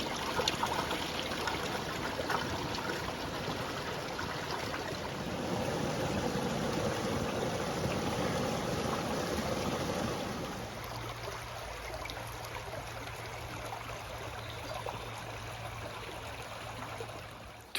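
A small brook runs through the centre of Cotwall End Valley, its soft, continuous trickling and babbling steady and fairly close throughout, with the flow quieting somewhat partway through.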